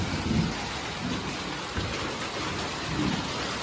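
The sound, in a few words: rain with thunder and lightning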